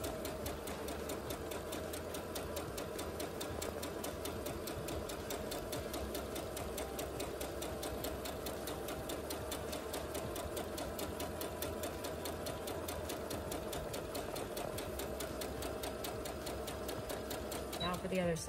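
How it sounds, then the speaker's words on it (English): A sewing machine runs a straight-line stitch along the pressed-down edges of a fabric surgical-style face mask, a steady fast mechanical whir and tick that continues for the whole span, with a voice talking over it. "just a straight line stitch, and sew the two edges that we pressed down."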